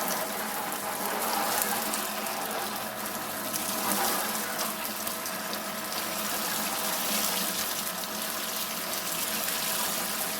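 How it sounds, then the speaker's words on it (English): A portable water sprayer gives a steady hissing spray of water continuously at moderate volume, close by, with a faint mechanical hum beneath it. "Getting plenty of water flow out of there"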